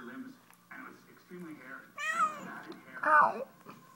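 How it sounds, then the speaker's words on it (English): A person talks softly, then a cat lets out two loud, drawn-out meows close by. "Yeah, he's a good kitty cat."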